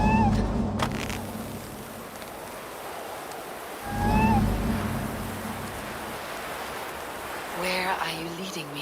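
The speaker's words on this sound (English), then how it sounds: "Who put you up here, little cat?" A cat meows several times in Assassin's Creed Valhalla, sitting up high near statues. The short, rising meows come through over a steady wash of ambient game sound, with one clearer call near the middle and another toward the end.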